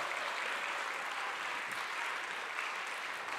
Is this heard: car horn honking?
no